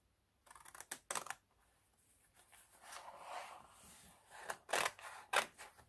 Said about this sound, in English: I've got these big handled scissors